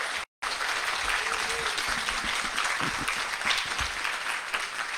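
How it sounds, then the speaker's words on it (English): Moderate applause from a gathered audience celebrating six new guide dog teams at a graduation, a few seconds of scattered, fairly distant clapping after a brief dropout. "How about a big round of applause for these folks?"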